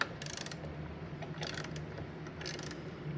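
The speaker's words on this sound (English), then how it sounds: "Just grab you a crescent wrench, and there's 2 squeeze nuts right here." A crescent wrench working the nuts on a 1984 C4 Corvette hood latch, giving three short bursts of ratcheting metallic clicks at close range over a quiet room hum.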